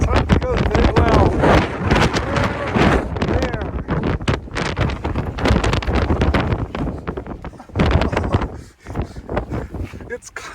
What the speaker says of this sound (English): Oh, that wind was killer.